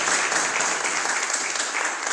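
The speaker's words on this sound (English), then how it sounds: "A round of applause for Alex there." A church congregation at Sunday worship gives a brief burst of steady applause, a dense even wash of clapping heard without talk.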